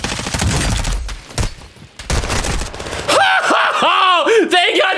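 Rapid gunfire bursts and crackling shots from the video game Warzone fill the first few seconds, followed by excited voices talking over the game sound.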